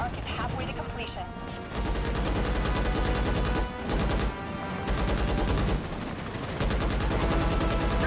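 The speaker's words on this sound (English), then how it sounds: "let's use this bad boy, see what this little turret's like" A turret firing in the video game Starship Troopers: Extermination, dense rapid automatic fire running almost nonstop and loud, with brief dips in the barrage and game effects layered underneath.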